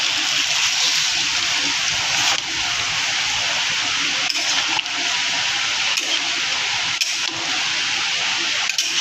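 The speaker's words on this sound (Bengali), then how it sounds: "পরিমাণ মতো জল দিয়ে নিলাম মাংস আর আলুগুলো সেদ্ধ হওয়ার জন্য" Water pours steadily into a pan of chicken and potatoes being cooked for a Bengali-style chicken kosha, a continuous loud gushing rush that runs unbroken throughout.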